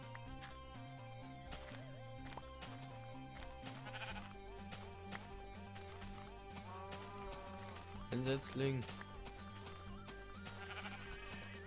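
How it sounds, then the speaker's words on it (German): A sheep in the Minecraft video game bleats with a short wavering cry over layered game music, and a voice says a few words. "Schaf."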